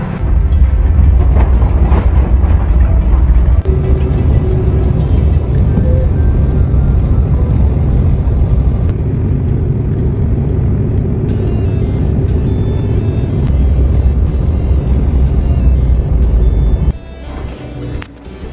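A rented car driving, with a steady loud low engine and road rumble running continuously for most of the stretch, shifting character partway through and dropping away near the end.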